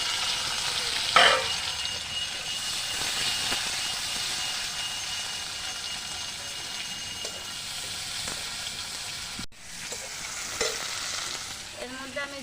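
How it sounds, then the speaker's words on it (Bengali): Tomatoes and onions frying in oil with dried chilli and bay leaf, a strong steady sizzle with stirring scrapes and a sharp clank partway through, no talking. "আমি দিয়ে দিলাম দুটো টমাটো আর পেঁয়াজ ভাজা ভাজা করে নেবো"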